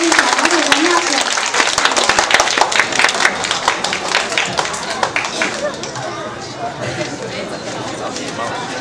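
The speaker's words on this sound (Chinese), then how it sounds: "请大家掌声鼓励" An audience claps and applauds at a children's music performance, loud and close, the clapping thinning out toward the end with some crowd noise underneath.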